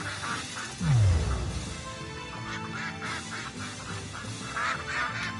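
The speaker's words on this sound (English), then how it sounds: "I just need to catch more ducks today, right? A lot of the ducks are feeling pretty spry," Ducks quacking inside a PS4 video game, a short burst of loud quacks near the start followed by softer repeated calls over steady game background sound.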